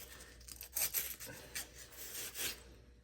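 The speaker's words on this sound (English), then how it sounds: "I'm using a steel brush here." A steel wire brush scrubbing rust off an International D310 diesel injector, quick rasping strokes in an uneven rhythm, close but faint.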